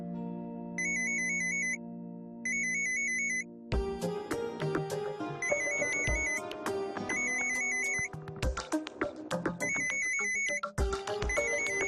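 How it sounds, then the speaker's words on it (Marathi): A phone ringtone plays in repeated electronic beeping bursts, first alone, then over a busy background music bed, recurring steadily at moderate volume. "रिंग वाजते"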